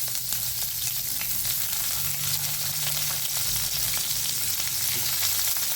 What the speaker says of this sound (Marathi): पॅन गरम झाल्यावर तेल चांगलं गरम झाल्यावर त्याच्यात आपण हे कांदे शॅडो फ्राय करून घेऊयात